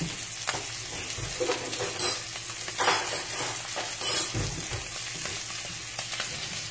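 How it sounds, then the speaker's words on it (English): A steak sizzles loudly in a hot pan with butter and juices, a steady frying hiss with sharper spatters and scraping as the melted fat is spooned over the meat, close up and with no talking. "I like to just grab some of my butter and juices and put it on my steak."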